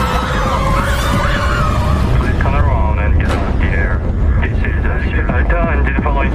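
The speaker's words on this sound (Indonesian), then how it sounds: "tiba-tiba pesawat mereka dikejar oleh pesawat tempur Jepang dan bahkan memberikan tembakan peringatan agar keluar dari jalur untuk mendarat" Japanese fighter jets chase an airliner and fire warning shots in a film scene, heard as a loud, continuous aircraft roar with sweeping tones, mixed with dramatic voices and effects throughout.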